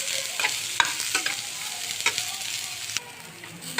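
Onions and green chilies stir-fried with garlic in a hot pan: a constant close sizzle broken by scraping stirs and light clacks of the utensil against the pan.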